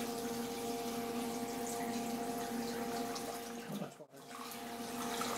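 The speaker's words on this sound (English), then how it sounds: "And then we simply add the water" Water runs steadily into a stock pot for bone broth made with apple cider vinegar, a continuous close rushing pour with a faint pump-like hum underneath, briefly dipping near the end before resuming.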